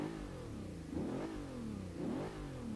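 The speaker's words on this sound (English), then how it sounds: "we're going to start the engine to have a little glimmer of the sound of the engine" A 2013 Bentley Continental GT Speed with a large twin-turbo engine revs in Forza Motorsport 6, two smooth rising-and-falling throttle blips over a steady idle, fairly quiet and alone.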